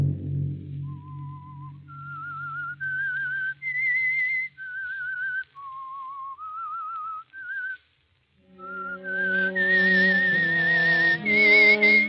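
Someone whistles the theme tune of The Whistler radio show, a clear solo melody of held, wavering notes in short phrases, which a second whistled phrase then joins over a low instrumental backing.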